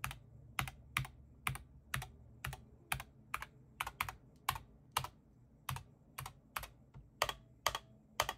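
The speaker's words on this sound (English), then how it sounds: "So there's keyboard ping on this." Keys clack one at a time on a DrunkDeer A75 or SteelSeries Apex Pro TKL mechanical keyboard, including the spacebar and enter key, each press bright and close with a faint metallic ping, in a steady uneven typing rhythm with no talk.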